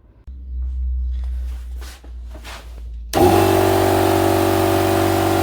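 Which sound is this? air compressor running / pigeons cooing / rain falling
air compressor running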